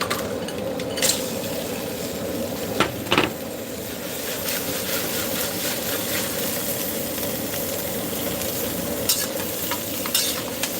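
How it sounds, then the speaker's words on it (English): Crab and crushed garlic sizzle in a hot pan with a steady, dense frying hiss up close, broken by a few brief clicks and knocks. "And we immediately want to put the crab in."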